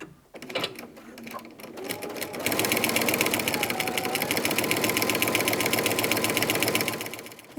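Sewing machine top stitching hanging tabs on a quilt in green thread at a long stitch length, starting with a few slow stitches and then running at a fast, steady, loud whir close by.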